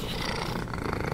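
A cat purrs close up in a steady, rumbling, continuous drone, with no speech over it.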